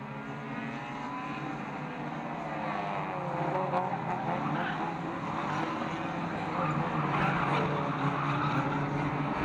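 Euro rods race cars running at Fleet Raceway, a continuous layered engine roar from several cars at a distance, swelling slightly midway, with a commentator's voice faintly underneath.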